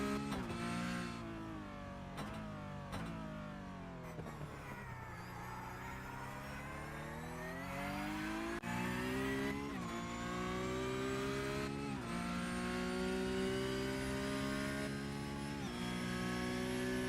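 A Porsche Cup race car in a sim racing game on the Nordschleife roars through rising and falling revs, with sharp gear changes and repeated acceleration pulls over about seventeen seconds, steady and loud with no talking.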